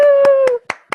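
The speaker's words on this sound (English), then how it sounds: "Round of applause." Brief bursts of hand clapping, a few sharp claps spaced out after a sustained tone, celebrating a webinar giveaway winner.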